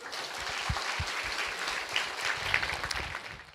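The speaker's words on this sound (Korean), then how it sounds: "박수 한번 주세요." Steady applause from a lecture audience at a Korean talk event, dense hand clapping filling the whole stretch at even loudness with a few louder claps standing out near the front.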